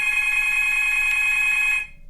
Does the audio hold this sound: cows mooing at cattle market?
no